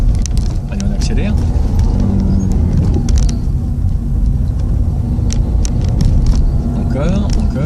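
A car accelerates during a driving lesson in Gennevilliers, its engine rumbling steadily and loudly throughout, with occasional faint clicks and jingles over the drone.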